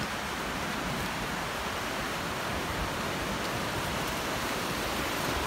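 A creek flows beneath a small bridge on the Appalachian Trail near the Delaware Water Gap, on its way to the Delaware River. Its water makes a steady, close, even rush that fills the whole clip, with no voices.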